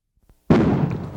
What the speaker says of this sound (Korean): 이야, 이거 정말 폭발음이 대단한데요